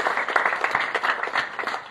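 A church congregation claps together in a sustained, dense round of applause, loud and close, with no talk over it.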